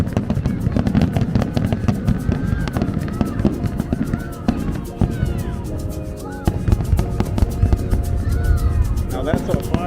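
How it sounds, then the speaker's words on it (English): Fourth of July fireworks bursting in a dense, continuous barrage of loud cracks and booms, with people talking throughout. "Now that's a fireworks show."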